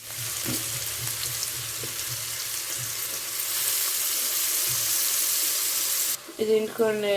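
Chopped onion goes into a hot pan for a vegetable dish, setting off a steady, close sizzle of frying that runs throughout, with a few faint clinks and a brief stir or rustle near the end.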